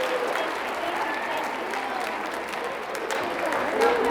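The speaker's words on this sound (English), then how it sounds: "Can we just have a round of applause for their first concert?" Steady applause from a large audience at a school orchestra winter concert, a dense even patter of clapping that holds strong for the whole stretch.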